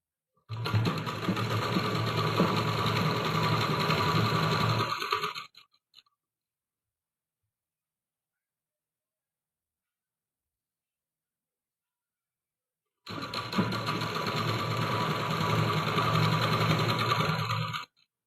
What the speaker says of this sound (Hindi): यहाँ से कट तक हम सिलाई लगाएंगे।